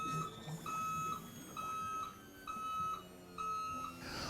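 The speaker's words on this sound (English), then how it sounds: "you will hear that alarm go off" A boat's swim platform raise warning alarm beeps repeatedly in an even rhythm, five or so sustained tones with short gaps, faint over a low background hum.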